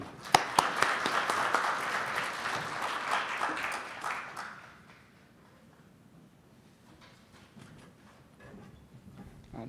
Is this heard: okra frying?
no